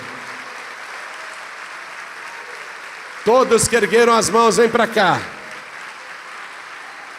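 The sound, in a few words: church congregation applauding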